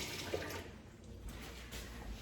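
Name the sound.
running water rinsing out small peppers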